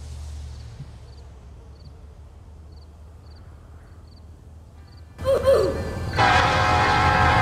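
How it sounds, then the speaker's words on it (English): Train in the Roblox Metra Train Sim game arriving at Chicago Yard: after a quiet stretch with faint beeps, a loud rumbling passage with horn-like tones rises and continues to the end. "here comes LG's train"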